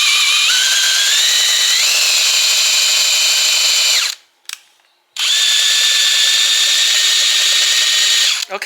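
An electric drill with a wobbly old Jacob's chuck whines loudly and steadily, its pitch wavering, then stops for about a second before spinning up again at full speed.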